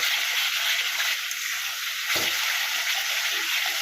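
Mushroom masala sautéing in a pan gives a steady broadband hiss of sizzling, with a brief low thump of stirring near the middle and no talk.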